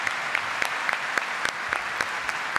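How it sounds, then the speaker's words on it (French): Steady, close applause from a small audience on a French talk show with Bigflo et Oli, with distinct individual claps repeating in a quick, even rhythm throughout. "Bravo, on peut applaudir."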